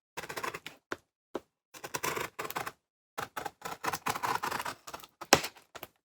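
Scissors snip and slice through tape on a comic-book mailer box in a series of short, crisp cutting bursts with brief pauses, close and fairly quiet, with occasional clicks and rustles of cardboard.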